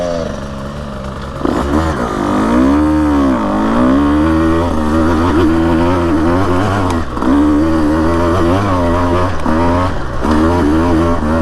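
A Husqvarna TE150 dirt bike climbs a loose, rocky trail hill in second gear from a dead stop near Florence, Arizona, its loud close two-stroke engine rising and wavering in pitch as it accelerates steadily.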